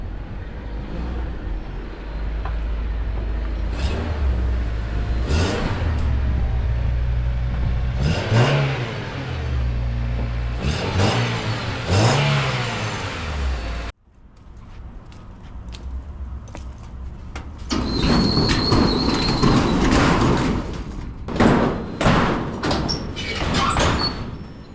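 A Honda car rolls into a garage, engine revving as it backs in, with a door sliding and slamming, keys jangling and clattering handling noises close by.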